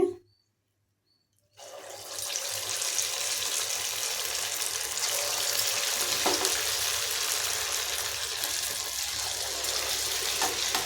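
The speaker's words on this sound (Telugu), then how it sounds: "కళాయికి ఎన్ని పడితే అన్నీ వేసుకుని స్టవ్ మీడియం ఫ్లేమ్లో పెట్టుకుని వేపించుకోవాలి" Punugulu, fritters of idli batter, frying in a kadai on the stove over medium flame, a steady bubbling sizzle that starts after a short silence and continues evenly, close and fairly loud.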